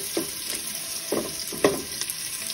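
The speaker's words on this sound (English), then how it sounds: "There's about probably a tablespoon and a half to 2 tablespoons of oil in here, which is nice and hot. And we're gonna put the onions in there." Diced onions hit about two tablespoons of hot oil in a pot, giving a low steady sizzle with a few brief louder bursts and stirring scrapes, no voices.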